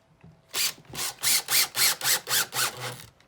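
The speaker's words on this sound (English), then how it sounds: "force that screw into the new material, and snug it up" A screw driven into the material of a storage bench by a power drill, eight even ratcheting bursts in quick succession, close and loud, with no talking.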